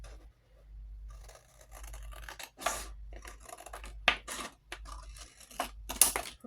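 Scissors snip paper for a scrapbook album in short, separate cuts, quiet and close, with faint rustling between the snips.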